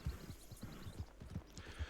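A horse in Red Dead Redemption 2 pushed along at speed, its hoofbeats thudding in a quick, regular rhythm, soft and low in the mix with no talk over them.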